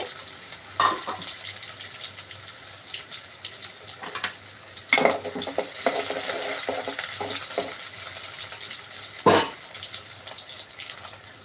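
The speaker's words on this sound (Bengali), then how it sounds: "তেল গরম হয়ে আসলে পেঁয়াজ দিচ্ছেন পেঁয়াজ আর রসুন" Onion and garlic frying in hot oil for a Bengali shutki and prawn dish give a steady, moderate sizzle with a few sharp clatters and stirring knocks, and no talk.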